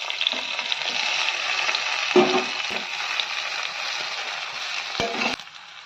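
Taro leaves added to a pan already frying garlic and green chili, producing a steady crackling sizzle with a few louder stirring scrapes and clatters, close up and with no talking.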